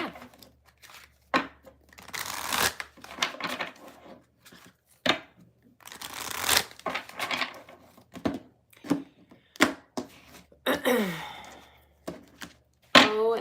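Tarot cards are shuffled in bursts, papery riffles and soft slaps coming in short clusters separated by pauses, close and fairly quiet, with occasional soft voice sounds between.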